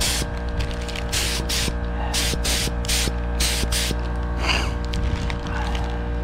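A spray can or spray gun laying a heavier coat of paint onto car suspension parts in short hissing bursts, repeated several times over a steady background hum, with no talking.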